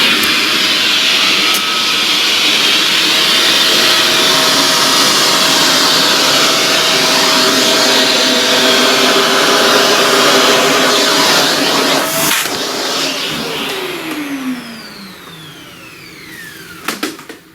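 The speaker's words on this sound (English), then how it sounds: "let's vacuum that" Loud, steady roar of a vacuum cleaner sucking pastel dust off a flower drawing, running continuously with a constant whine, then winding down with a falling pitch near the end.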